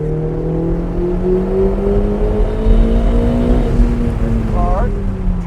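A Lamborghini Huracan or Ferrari 488 sports car accelerates hard on a race track, its engine note climbing steadily through the rev range in a loud, close onboard drone, with a quick upshift near the end.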